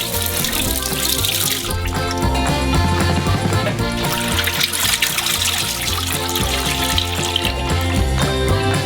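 Milk, 3.4 liters of it, is poured into a huge saucepan, making a continuous loud gushing and splashing pour that holds steady throughout.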